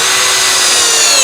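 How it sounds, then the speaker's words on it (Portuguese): A Hanabi Black cordless drill bores with an Irwin Speedbore spade bit at low speed, giving a loud, steady whirring whine close up that runs without a break for the whole short moment. "Broca Speedbore da Irving com as duas máquinas na velocidade baixa."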